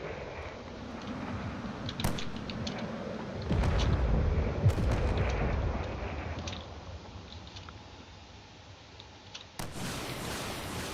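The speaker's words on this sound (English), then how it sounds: "Of course, there's some more missiles coming in as well." Incoming missiles explode in the space combat game Drone Wars, bringing a run of heavy, booming blasts and rumbling impacts with sharp cracks, loud and continuous, a final burst near the end.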